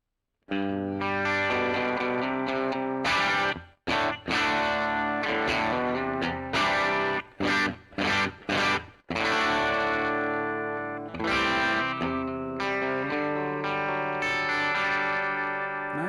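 Heavily effected electric guitar chords through a POD Go preset with stock IR ring out loud and thick with chorus and distortion, stopping briefly for a few choppy stabs before sustaining again.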